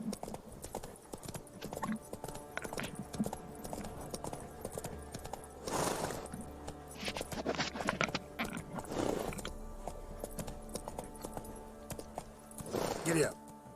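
Horse hooves clip-clopping in a steady trotting rhythm in The Witcher 3, under game voices and talk, with a few louder spoken bursts over the hoofbeats.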